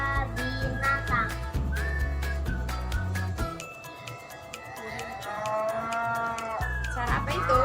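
Cattle lowing as part of an animal-sound recognition game for a child, long sustained low moos with a whistle-like tone and faint jingling over a steady background.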